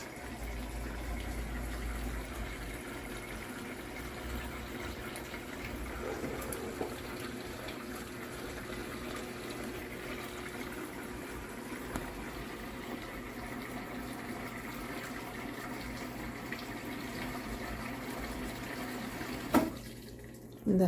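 A COMFEE 1.6 cu ft portable washing machine starts a quick wash cycle and fills with water, giving a steady, close running-water rush with a low hum throughout and a brief knock near the end.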